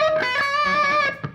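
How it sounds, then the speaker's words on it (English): A rapid run of choked, chugging notes on a distorted electric guitar, tight and muted, sweeping through a quick arpeggio. "Number 4 is the palm muted sweep."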